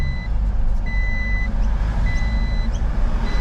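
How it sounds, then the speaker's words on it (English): A seatbelt warning buzzer chimes in a 2023 Toyota LandCruiser VDJ79 with a 2.8-litre four-cylinder 1GD diesel and automatic gearbox, with short repeated beeps sounding over a constant low engine and cabin hum. "we still got that seatbelt buzzer."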